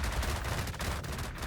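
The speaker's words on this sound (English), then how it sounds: "Continuous FLak cannon fire." Rapid-fire flak cannons mounted on a plane in a video game blast in a continuous fast, dense stream of booming shots, fairly quiet overall and steady throughout, with no voices.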